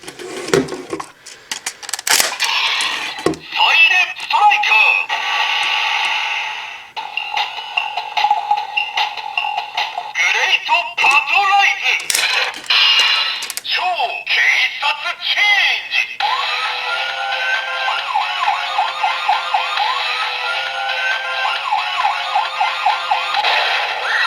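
Electronic effects from a DX Siren Striker toy used with the Versus Changer: a burst of jingles and voice clips, then a wailing siren tone that rises and falls repeatedly, loud and close, with speech mixed in.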